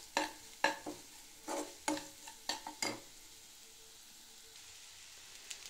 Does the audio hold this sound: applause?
no